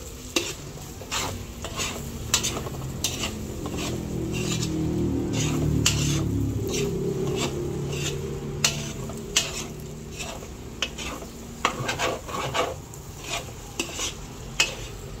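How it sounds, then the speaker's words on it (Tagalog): Ground meat stirred in a hot pan for Filipino spaghetti sauce, with repeated scraping and clinking of a spoon against the pan over a low, steady sizzle that swells midway; close and fairly quiet, no talking. "Atin pong hahaluin."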